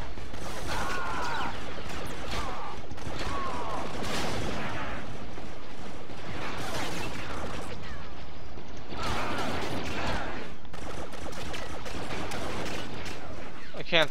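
Dense gunfire and blaster-style shots from a modded Star Wars Battlefront match, steady and loud throughout, with mechanical clatter and faint voices in the mix.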